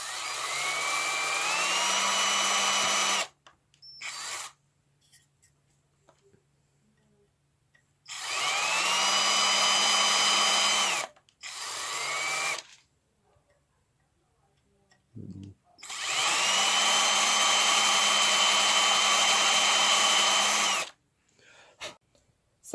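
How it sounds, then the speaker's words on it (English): A power drill fitted with a countersink bit bores into metal on a low speed setting, three long whirring bursts with short spin-ups and pauses between, loud and close with no talking. "I've got my drill with my countersink in there. It's on a low speed setting"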